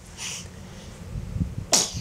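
A single sharp sneeze, close and loud, bursts out near the end after a quiet indoor stretch with a faint breathy intake earlier.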